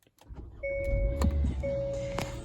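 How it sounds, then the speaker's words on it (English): A 2021 Hyundai Elantra SEL starting with its push button: a few clicks, then the engine turning over into a steady idle while a high electronic chime sounds twice from the dashboard. "So foot on the brake, and I'm going to push in to start."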